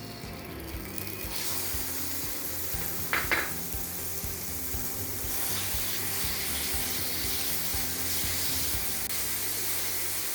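Marinated chicken with ginger and garlic sizzles in a pan, a steady moderate frying hiss with a brief clink of utensils partway through, no voices.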